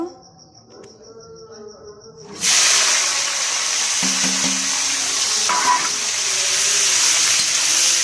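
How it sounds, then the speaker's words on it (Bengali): After a quiet start, a loud, steady sizzle and hiss erupts as vegetables hit hot oil in a wok on a gas stove, continuing without a break. "এবার সবজিগুলোকে সবগুলোকে ভাজবো, তাই আবার গ্যাসের মধ্যে কড়াইটাকে ধুয়ে বসিয়ে দিয়েছি।"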